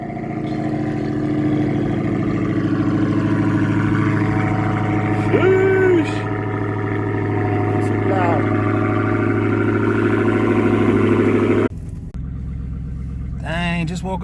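A Dodge Charger Hellcat cold-starts with a loud, steady engine drone that holds high for most of the run, then drops to a lower idle, as voices talk over it.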